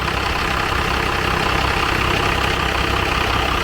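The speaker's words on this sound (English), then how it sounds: "See if it'll idle." A Cummins diesel engine fitted in a Ford truck idles just after its first start-up, a loud, steady, close rattling clatter with no talk.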